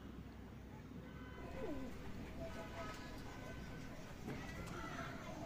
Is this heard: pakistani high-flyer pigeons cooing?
yes